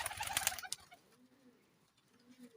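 Close pigeons coo softly in a loft of prized flying pigeons, a brief burst of wing and feather flutter at the start, then low, rounded cooing phrases repeating quietly.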